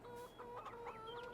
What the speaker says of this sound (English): Well, there, chickens. So we have chickens as well.